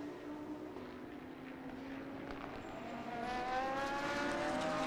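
GT cars racing around a circuit during a GT Asia round, a steady engine drone that swells louder toward the end as cars pass nearby.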